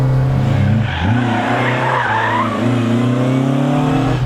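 A Ford Escort RS2000 drifts sideways through a corner, its engine droning loud and steady while the tires squeal and skid across the whole stretch, pitch wavering as the slide continues.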